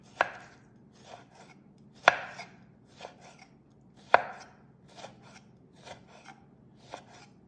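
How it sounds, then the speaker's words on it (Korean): Knife chopping lemon finely on a cutting board, a series of close, crisp cuts in an irregular rhythm, with a few sharper strokes among lighter ones and no talking. "레몬은 아주 잘게 썰어줄게요"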